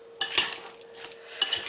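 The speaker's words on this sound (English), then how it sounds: "Make sure all the salt and the pepper and the onions and the chili pepper get mixed in real good." Guacamole being stirred with salt, pepper, onions and chili pepper mixed in, giving a few soft, close scraping and squishing strokes with quiet pauses between them.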